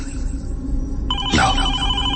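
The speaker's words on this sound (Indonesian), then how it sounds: "telepon kantor berdering berasal dari salah satu meja yang berada di paling pojok" An office desk telephone rings in a dark corner of an empty office, a bright electronic ring that cuts in partway through over a low ominous drone, with a voice murmuring beneath.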